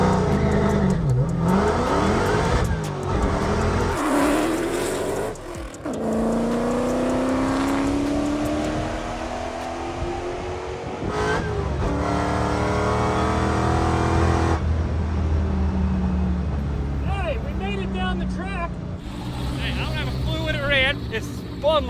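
Manual Dodge Demon accelerating down a drag strip, its engine loudly revving up and dropping through repeated gear changes, heard from inside the car with people talking over it.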